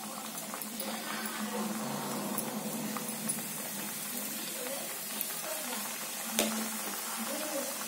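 Wheat-flour sweet dough for Diwali sizzles in hot oil, a continuous bubbling crackle with occasional light clinks and taps of a utensil nearby.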